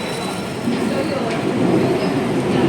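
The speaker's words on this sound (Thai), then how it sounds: "ด้านบนก็เป็นรถรางรถไฟนะคะ" Rail transit rolls overhead above a busy city-centre skywalk, a steady loud rumble with faint wheel squeal, blended with crowd murmur.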